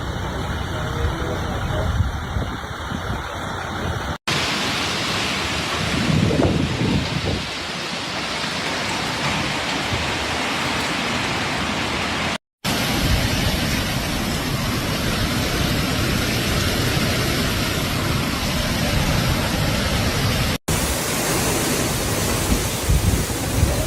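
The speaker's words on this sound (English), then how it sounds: "Hurricane Milton moved through Florida early Thursday after slamming into the state as a Category 3 storm" Heavy hurricane rain and wind roar steadily from Hurricane Milton, a Category 3 storm in Tampa, Florida, recorded outdoors near a hospital seawall at night, a dense continuous wash with brief cuts between segments.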